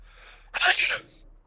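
A single sharp sneeze bursts out close by, loud and brief, after a quiet moment, in the middle of a group chat during a Mythic Vexiona raid.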